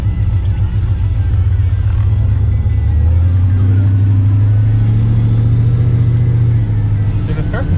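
A supercharged Coyote V8 swapped into a 2000 Ford F150 XLT, rated 650 horsepower, rumbles close and loud with a deep, steady idle that swells in a sustained rev, a voice briefly audible over it.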